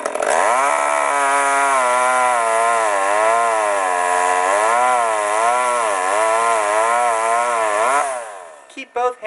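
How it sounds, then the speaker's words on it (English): A chainsaw trimming a tree runs loud and steady for about eight seconds, its engine pitch wavering up and down as it bites into wood, then cuts off abruptly. "When you're using the tip of the chainsaw, you're in danger of having the saw kick back"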